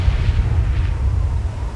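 A ship exploding in the submarine game Silent Hunter III: a continuous deep rumbling roar with crackling bursts, loud and steady throughout, with no voices.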